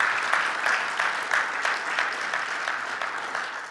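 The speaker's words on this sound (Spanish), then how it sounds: "Dale el aplauso de alabanza al Señor," A church congregation claps in praise during a sermon, steady rhythmic applause from many hands throughout, fairly loud and even.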